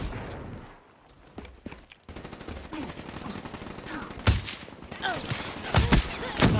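Gunfire in the video game Black Ops 3 during a sniper match, heard as scattered sharp shots and bursts among game sound effects at moderate loudness.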